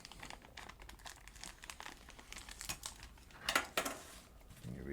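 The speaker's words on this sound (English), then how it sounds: "Right, then we go with the second plastic bag." A plastic bag being cut open and crinkled while a 1966 Oldsmobile 442 is unpacked, giving close, irregular rustling and crackling with a few louder crunches toward the end, no speech.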